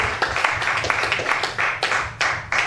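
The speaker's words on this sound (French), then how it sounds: "Applaudissons pour la parole de Dieu." Congregation in a church service clapping together, a steady stream of overlapping handclaps with periodic louder bursts, sustained throughout with no voice over it.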